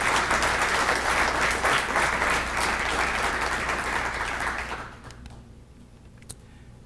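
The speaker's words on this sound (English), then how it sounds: "Let's give them a round of applause." An audience at a city address applauds loudly and steadily, then the clapping thins and fades out near the end, leaving a quiet room with a few stray claps.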